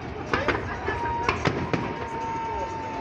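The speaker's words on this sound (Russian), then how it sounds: "Надо про Салют." Fireworks salute going off at a distance, several sharp cracks and bangs scattered over a few seconds, with faint background voices and a thin whistling tone.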